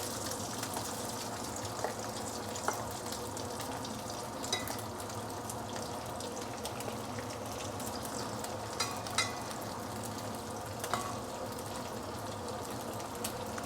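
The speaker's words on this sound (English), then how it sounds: "we should be frying this using a medium-high" Chicken wings fry in hot oil in a wok over medium-high heat with a steady, dense sizzle and occasional light crackles and stirring clinks, close and continuous with no talk.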